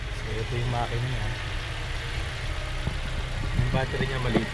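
Toyota Rush GR-S 1.5-litre engine with automatic transmission idling under the open hood, a steady low hum running throughout while someone talks over it.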